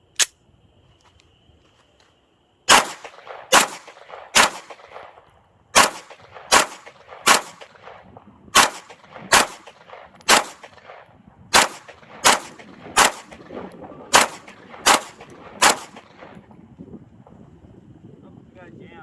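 A 3D-printed Glock 17 pattern pistol (Chairmanwon G17 DD17.2) fires loud, sharp outdoor gunshots: one early shot, a pause, then about fifteen shots in an uneven steady string, each with a short ringing tail.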